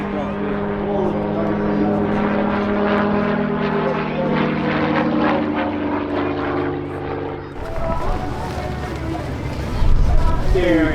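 A propeller aircraft drones steadily overhead at the Middelburg airshow in Mpumalanga, South Africa, loud and continuous, its tone shifting as it passes, with a commentator's voice running beneath it.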